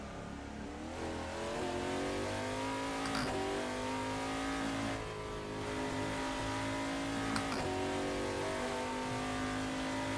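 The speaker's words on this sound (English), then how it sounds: "I like the sound of this car though. 7-liter V12." A 7-liter V12 race car in a racing video game revs and accelerates continuously, its engine pitch climbing through gear shifts with brief dips between them, loud and steady throughout with no talking.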